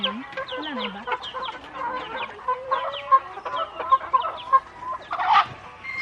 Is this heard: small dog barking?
no